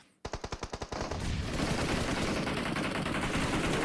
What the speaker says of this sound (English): Bullets coming in from Tiamba once again, as they are dealing some very hefty hits